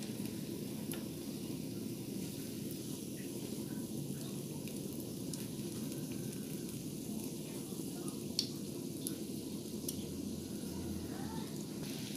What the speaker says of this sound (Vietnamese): Mình chỉ chiên trong chỉ cần mình chiên khoảng chừng 2 đến 3 phút là được rồi đó các bạn.